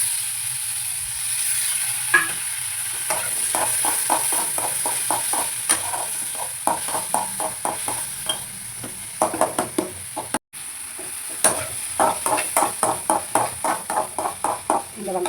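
Onions and tomatoes, with a pinch of salt, sauté in a pan for a potato fry. A steady sizzle is broken by repeated rhythmic scrapes and knocks of a stirring spoon, which grow quicker toward the end.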